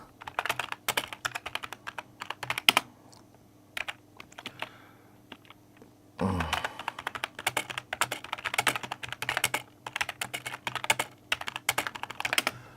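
Chat messages are typed on a computer keyboard in rapid, close clicking runs. A quieter stretch with only scattered taps follows, then steady typing resumes, and no one speaks.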